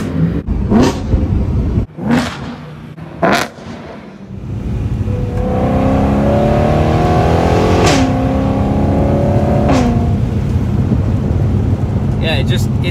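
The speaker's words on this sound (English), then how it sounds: "The downshifts in this car are insane. I mean, I've never heard anything like it. Here's some downshifts for you." A BMW E93 M3 convertible's engine blips sharply on downshifts, with several quick throttle rises and falls, then a sustained loud rev with wind rush as the car drives with the top down.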